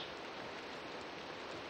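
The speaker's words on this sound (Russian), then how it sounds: "А, дождик" Rain falls in a Minecraft-style block game with a magic mod, a steady, even hiss of dense rainfall that stays constant throughout, fairly quiet.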